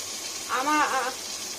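Bitter gourd frying crisp in hot oil gives a steady, soft sizzling hiss throughout, with a brief voice sound rising over it midway.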